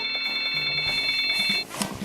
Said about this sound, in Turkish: Ah, ah, telefon çalıyor.